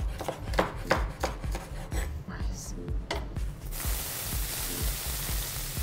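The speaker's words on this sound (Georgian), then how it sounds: "ასევე ჩვენ ხმარობთ ღანძილს, დავჭრათ ცოტა ესე წვრილად" Wild garlic chopped finely with a knife on a board: a quick run of crisp, regular chops close up, easing into a steady hiss of cooking toward the end.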